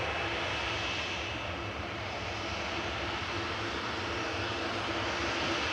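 Ryanair jet airliner bound for Palma de Mallorca departing Manchester Airport, a steady distant roar of engines holding fairly level and faint throughout, with no voices.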